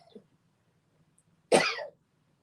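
A single short cough, close and fairly loud, after a brief faint sound, with quiet background otherwise.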